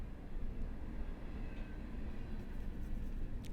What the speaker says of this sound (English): That's a long train there, isn't it? Freight train, auto racks, I think.